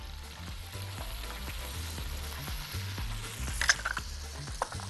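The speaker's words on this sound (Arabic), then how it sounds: "نقلبه تقليبه حلوه مع البصل كده كده كده" Food frying in a pot with onions and green fava beans for rice, a steady sizzle broken by repeated scraping and knocking of a spoon as the mixture is stirred, close and fairly loud.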